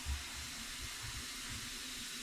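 About a litre of water running into a pot of rice, a soft continuous hissing flow, steady and fairly quiet, with no talking over it.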